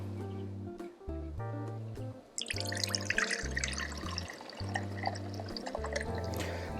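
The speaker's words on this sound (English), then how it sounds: "I'm just going to drain my water into this." Cooking water drained from split peas into a pot, a splashing pour that starts midway and runs on with gurgling and drips over a low steady hum, close by.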